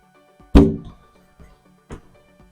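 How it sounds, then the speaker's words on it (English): A window sash being lifted out of its frame during balance replacement: one firm wooden thunk followed by a softer knock a moment later, close and otherwise quiet. "So we'll remove our sash."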